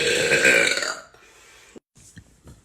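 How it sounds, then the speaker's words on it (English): A woman lets out one long, loud burp that fades after about a second, followed by near silence and a few faint small noises. "I feel like my burps are just so mediocre today."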